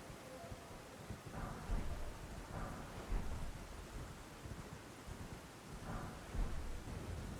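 A thunderstorm in the video game Elden Ring brings steady rain and wind, with several muffled rolls of thunder swelling at intervals beneath the constant downpour.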